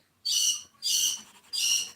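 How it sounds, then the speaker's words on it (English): Pet birds give three loud, piercing whistled calls in a row, each about half a second long with short gaps between them, close by and alone. "there's my birds weighing in"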